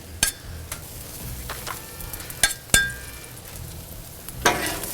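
A metal spoon scrapes and clinks against a flat-top griddle while stirring sausage jambalaya over sizzling heat, sharp irregular clinks above a soft steady fry, close up with no talking.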